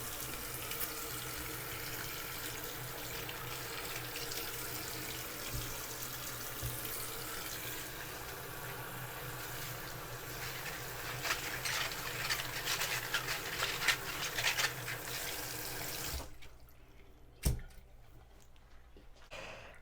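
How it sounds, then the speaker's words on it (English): Tap water runs steadily into a kitchen sink while vegetables are rinsed under it, a continuous broad splashing rush that stops abruptly near the end, followed by a brief knock and quiet. "rinse these off. Just give them a little rinse."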